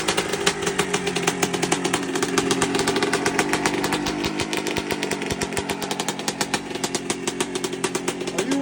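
A freshly rebuilt 1997 steel-frame Honda CR 125 two-stroke dirt bike runs close by, a buzzy, raspy engine that is blipped and revved in uneven bursts with crackling pops between throttle stabs.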